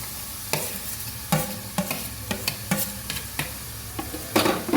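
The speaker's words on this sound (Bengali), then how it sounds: "এবার ওই সব মিশ্রণগুলো একসাথে ভালো করে কষিয়ে নিতে হবে।" Chicken and boiled potato being sautéed in a pan for a home-made snack, with repeated scraping stir strokes and soft sizzling, moderately close and steady, no talk.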